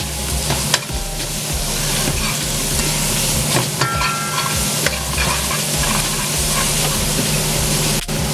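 Mango amchar ingredients fry in a pan with a loud, steady sizzle and crackle that holds unbroken throughout, with no voices.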